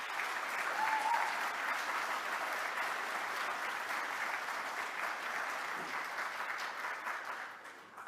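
A conference audience applauds together in a sustained, even wash of clapping, fairly distant in a large hall, tapering slightly at the end.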